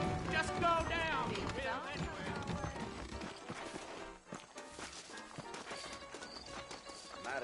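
Saddled horses in Red Dead Redemption clip-clop in a steady rhythm and let out a whinny, close and clear, with someone talking over the hooves.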